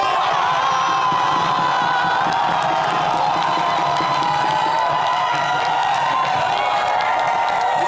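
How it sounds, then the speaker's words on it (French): A TV show studio audience cheers, whoops and applauds for a contestant, a loud sustained crowd roar with shouting voices mixed in over steady clapping. "Faites des applaudissements."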